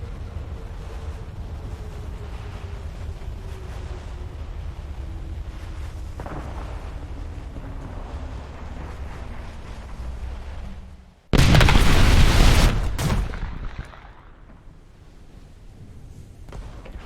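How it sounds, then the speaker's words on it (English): A HMS Hood naval gun salvo fired in a warship video game gives a sudden loud booming blast after a long steady engine hum with a falling whine, then a rumbling decay back to the hum. "Add a little bit more distance, and fire. 8 16-inch shells in the air."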